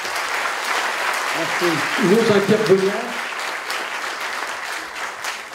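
An audience applauding at a Lions Club 50th anniversary event in Aire-sur-la-Lys, a steady wash of many hands clapping that carries on throughout while someone speaks briefly into a microphone over it.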